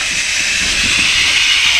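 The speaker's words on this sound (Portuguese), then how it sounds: "Panelinha de pressão aqui já na tora, gente." A pressure cooker on a wood-fired stove gives off a loud, steady hiss of escaping steam, close and constant throughout with no break.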